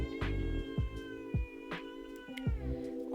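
A cat meows repeatedly, about five or six clear, tonal, drawn-out calls spaced across a few seconds, close and fairly loud with no talk over them.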